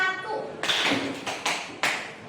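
A classroom of students clapping together on their teacher's cue: after a voice speaks, a few sharp, loud unison claps ring out, spaced about half a second apart.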